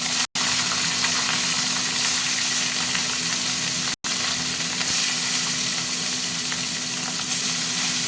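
Pieces of pona fish fry in hot oil in a pan, giving a loud, steady, close sizzle that runs almost unbroken, with two brief cuts.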